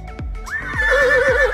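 A toy horse lets out a loud, shrill whinny that rises and quivers for about a second, with a few soft knocks of play on sand underneath.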